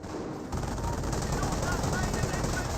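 Machine gun fire from a German 222 armored car in the video game Company of Heroes, a dense continuous rattle that starts abruptly and keeps going, fairly faint under a commentator's voice.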